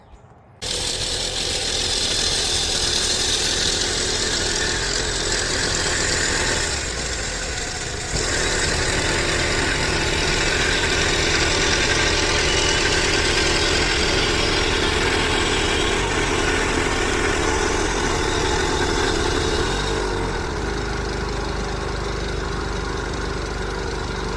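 A portable sawmill engine runs steadily at a loud, near drone while cutting a wavy log from a home-grown tree, starting after a brief silence and holding almost unbroken for the whole stretch.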